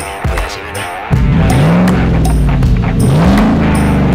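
A Ford Raptor's 6.2-litre V8 with a new loud aftermarket exhaust revs up loudly, its deep exhaust note rising and falling through several throttle blips, close by and roaring.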